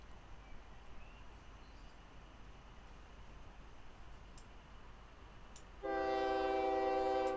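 A train pulls away in the OpenTTD railway simulation game, first a steady broadband rumble of rolling stock, then a loud sustained horn blast cutting in near the end, with no voices.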